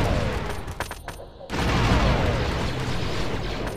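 A burst of Star Wars Republic Commando gunfire sputters before a short gap, then a loud rolling grenade explosion hits and keeps rumbling under continued fire, with faint voices mixed in.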